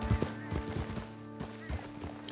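Horse hooves clip-clop at a steady trot in an open-world video game, with quick repeated thuds over a constant droning background, fairly faint and with no voices.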